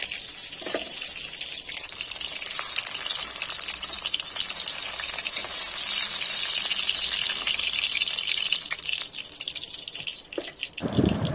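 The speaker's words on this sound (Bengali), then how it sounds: "এদিকে মাছগুলোও ভাজা হচ্ছে" Hilsa fish pieces fry in oil with an even, constant hiss and spatter that swells slightly midway and then dips near the end.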